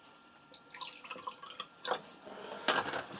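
Water poured into homemade sugar caramel colour syrup, heard as faint, irregular splashes and drips that build to a brighter splash near the end, quiet and close with no voices.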